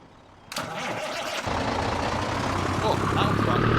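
Truck engine in the Farming Simulator 22 video game, starting abruptly and settling into a loud, steady idle hum that builds slightly, with a mechanical clunk partway through.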